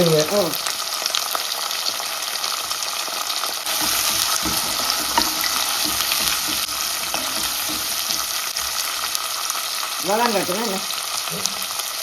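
Curry leaves sizzle in hot tempering oil for a Jaffna-style mutton curry, a loud, steady crackling fry with stirring scrapes and a brief voice near the end.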